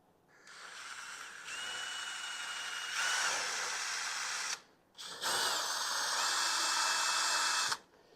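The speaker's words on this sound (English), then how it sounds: "I have my drill in reverse." A power drill running in reverse whines at high pitch while biting into a stripped, broken fastener, two long sustained bursts with a short pause between them, close up and loud.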